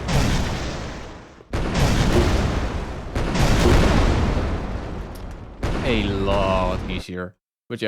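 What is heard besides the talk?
rocket launcher firing in a video game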